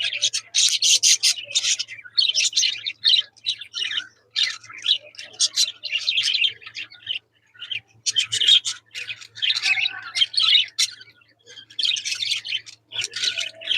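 Pet budgerigars chatter in a flurry of bright, rapid chirps and squawky warbles, coming in dense bursts with short pauses between them. The birds sound close and there is little background noise.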